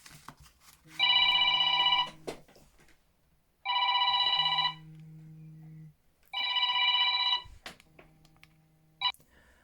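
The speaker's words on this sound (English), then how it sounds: "Should have put my phone on silent before I did this." A mobile phone rings during a card-making session, three loud electronic ringtone bursts of roughly a second each separated by pauses, with a low hum and small handling noises between them.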